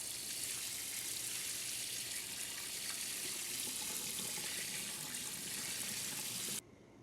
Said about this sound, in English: After we've rinsed them with water